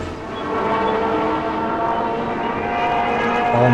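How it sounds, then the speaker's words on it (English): Crop sprayer in a farming video game letting out a sustained, loud mechanical whine with steady tonal layers that rise slightly near the end, heard alone. "when this sprayer gets going, it really does have a bit of a whining sound about it."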